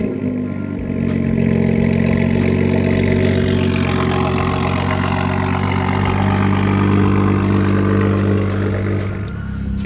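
BMW F30 335i with the N55 turbocharged engine running, a steady close engine drone that swells as it revs slightly and settles, smooth with no burbles, heard from inside the car.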